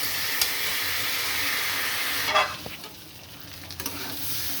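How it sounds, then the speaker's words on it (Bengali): Rice is stirred in water in a pot, a broad steady hiss giving way to softer swishing and a few light scrapes. "চালটা দিয়ে দেবো, দিয়ে খুব ভালো করে আমি নাড়ব"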